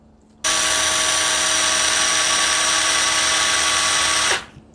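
A Mollar CIW2050 impact wrench runs in loosening mode, a loud steady high-pitched motor whine that starts abruptly, holds for about four seconds, then winds down, with no talking.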